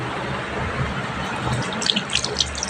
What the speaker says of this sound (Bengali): চলো আগে হাতটা ধুয়ে নিই আমি